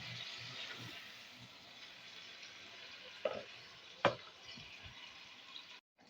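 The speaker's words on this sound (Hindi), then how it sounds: "दाल हमारी अच्छे से भून रही है" Dal lentils frying in a pan for a bitter gourd karela curry, a faint, steady sizzle running throughout, broken by a couple of sharp utensil clinks near the end.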